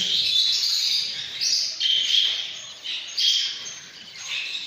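Young budgerigar chicks in a breeding room chirp together in a dense, continuous high-pitched twittering that swells and dips in waves, close by and with no talking.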